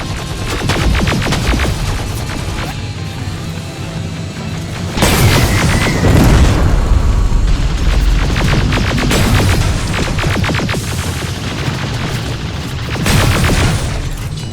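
Grenade blasts in the first-person shooter Terminator Resistance: loud, heavy booms arrive in bursts over a continuous roar of gunfire and battle noise, close and chaotic, with no voices.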